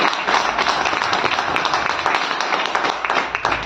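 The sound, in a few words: loud applause from audience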